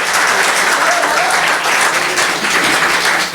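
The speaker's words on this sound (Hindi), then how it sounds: "करतल ध्वनि तो जोरदार होनी चाहिए भाई।" Audience applause greets a poet taking the stage at a Hindi poetry recital, a dense, steady wash of clapping from a crowd that holds loud and even for a few seconds.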